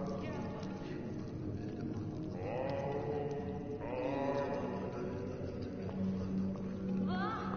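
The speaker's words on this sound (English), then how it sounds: "The goat dies to keep Yalung asleep and sated" In Far Cry 4, a goat bleats in several drawn-out, wavering cries during a ritual sacrifice scene, set over a busy game backdrop with a low hum, while people talk underneath.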